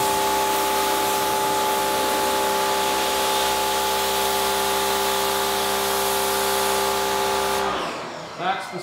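A pressure washer sprays water across an Audi SQ5 during an exterior wash, a loud sustained hiss over a tonal machine whine that cuts off near the end, followed by a few brief knocks.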